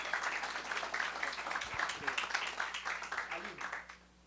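Conference audience applauding at a national leaders' workshop meeting, a steady wash of many hands clapping that fades out near the end, with some faint voices underneath.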